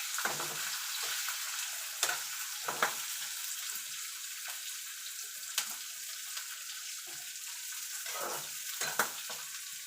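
Sliced onion and green chillies frying in oil in a pan for egg bhurji, producing a continuous bright hiss with occasional spatula scrapes and stirring knocks, moderately quiet.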